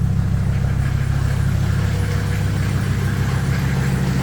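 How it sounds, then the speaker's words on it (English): A Mercedes parts car engine idles steadily with a deep low rumble and a faint rhythmic knock, close by and constant with no talking. "I moved it back to let it sit here and run."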